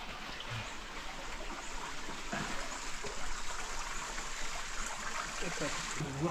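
Water trickling from ancient rock carvings at Unakoti, Tripura, a steady near stream-like babble and splash that fills the whole stretch, with faint background voices.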